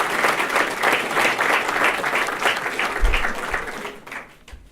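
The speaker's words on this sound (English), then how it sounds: "let's give them another big hand." Sustained applause from an audience at a school cross-country proclamation ceremony, dense clapping holding steady for several seconds before thinning out and fading near the end.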